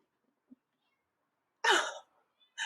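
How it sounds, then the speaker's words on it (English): A single drawn-out, plaintive cat meow, close and fairly loud, followed by the start of another; a tiny click comes before it in otherwise quiet surroundings. "The saddest meowing."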